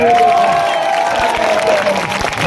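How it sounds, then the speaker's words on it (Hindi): Crowd at a political rally applauding and cheering for Chandrashekhar, a loud, dense burst of clapping and voices that carries on steadily from start to end, with a voice briefly heard over it. "एक बार चंद्रशेखर के लिए ताली हो जाए।"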